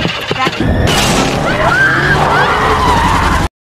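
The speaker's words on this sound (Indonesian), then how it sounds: "psikopat itu menusuk ban mobil mereka dan akhirnya mobil itu terjungkir" A loud car skid and tire squeal with a sharp impact near the start as a car with a punctured tire overturns, followed by sustained screeching noise and rumble, close and intense; a film scene.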